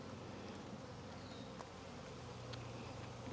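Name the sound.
swarm of bees buzzing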